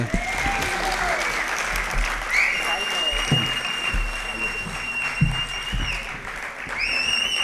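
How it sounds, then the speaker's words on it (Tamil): An audience claps steadily at a Tamil film event, a continuous wash of applause running under a man's speech and a few whistles. "பால்குமார் அண்ணனுக்கு நீங்கள் கைத்தட்டுங்களா?"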